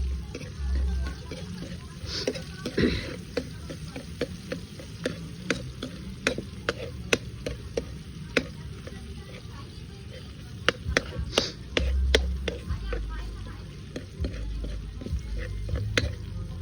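Seafood fries golden brown in a pan under a constant sizzle, punctuated by frequent scraping clicks as it is stirred.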